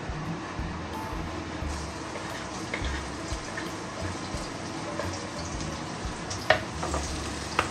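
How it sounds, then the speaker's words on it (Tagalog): Garlic sautéing in a pan as the first step of cooking with onion and mushroom, giving a steady, close sizzle with soft stirring and a couple of brief clinks near the end. "mag-gisa na tayo ng bawang sibuyas at mushroom. So, unahin natin bawang."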